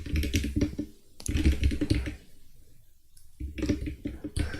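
Close, rapid typing on a computer keyboard in bursts of clattering keystrokes with short pauses between them, and no talking.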